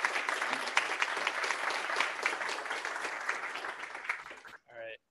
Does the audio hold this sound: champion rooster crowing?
no